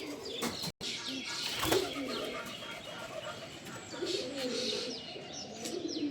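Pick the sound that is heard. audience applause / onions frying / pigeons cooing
pigeons cooing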